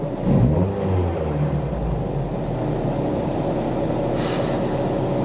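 A 2004 Toyota Celica VVTI engine idling on a cold start, with a slightly high idle: a steady, close, low droning hum that holds evenly throughout with no talking.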